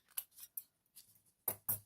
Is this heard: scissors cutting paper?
yes